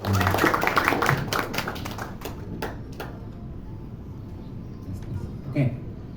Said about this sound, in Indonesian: kasih tepuk tangan dong sekali lagi untuk Kak Nurul Hidayati